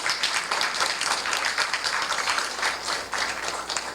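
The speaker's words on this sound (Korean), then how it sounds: "여러분 대상 수상하신 네 분께 다시 한번 큰 박수 부탁드릴게요" Audience applause for four grand prize winners at a development cooperation day ceremony, a loud, dense and sustained wash of clapping from a large crowd, pulsing slightly over several seconds.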